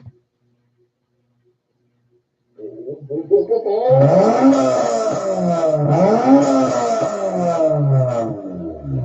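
A Honda K28 VTEC engine in an Accord Euro R revs after a silent pause, its pitch repeatedly climbing and dropping in a loud, sustained, raspy howl.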